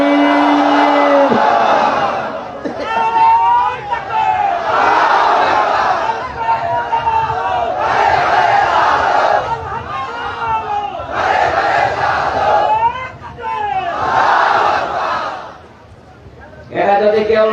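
A large crowd at an outdoor Bangla religious sermon gathering roars Allahu Akbar in answer to a takbir call, repeated in loud rhythmic chanted waves, with a lead voice calling out between them.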